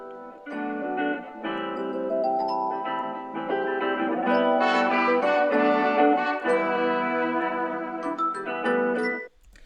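Layered bell-like tones play a melodic pattern, chiming notes that ring and overlap continuously before cutting off abruptly at the end.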